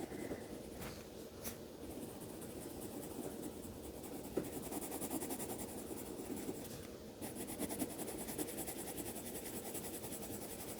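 A pencil scratches steadily across paper in a continuous soft rasp while someone draws potato chips, close and fairly even in level, with no speech.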